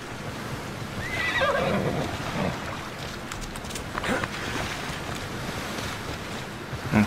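A horse whinnies in the open-world video game Assassin's Creed Odyssey, a rising neigh over steady wind and surf-like ambience, moderately close, with no talk.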